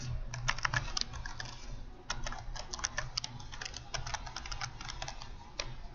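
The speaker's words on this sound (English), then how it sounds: "So I'll type in my file name." Someone types a file name on a computer keyboard, with quick bursts of close, crisp key clicks and brief pauses between bursts.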